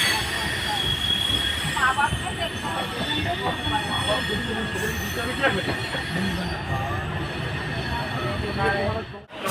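Express train rolling into Udhna Junction and slowing to a halt, with steady wheel rumble and high, sustained brake and wheel squeal throughout, fairly loud and close, ending abruptly.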